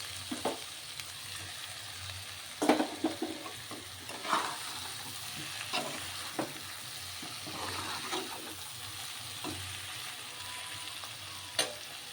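Masala sizzling and frying in a pan, a steady soft crackle with occasional stirring scrapes and clinks over about twelve seconds, fairly quiet and close.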